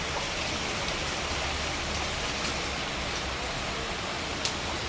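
Heavy monsoon rain pours steadily in a dense, unbroken hiss that stays even and close for the whole stretch, with no voices over it.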